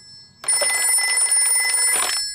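An electronic telephone ring sounds as an office number is dialled, one sustained trilling burst rising out of near silence and then cutting off.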